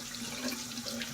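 Tap water runs steadily into a sink while makeup brushes are rinsed one at a time, a soft continuous gush with a light hum underneath.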